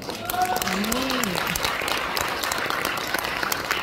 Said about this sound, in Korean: 우리 유튜브께서 박수 치는 걸 보니까